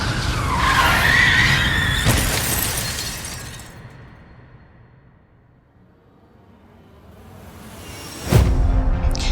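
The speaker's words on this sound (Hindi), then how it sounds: "उन्हें बचाने के लिए धीरज ने तुरंत स्टीयरिंग को घुमाया, जिसकी वजह से गाड़ी सीधे लोहे की रेलिंग से जाके टकरा गई" A car's tyres skid and squeal as it swerves sharply to avoid dogs, a loud screeching slide that fades away, then ends in a sudden crash against an iron railing.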